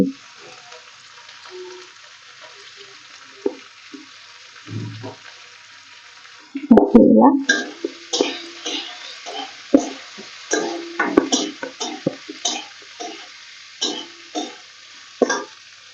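Medium onions, chopped large, fry in a pan with a light sizzle; from about the halfway point, a louder run of stirring scrapes and clatters breaks in over the frying.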